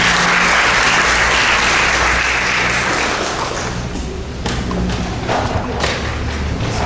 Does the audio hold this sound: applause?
yes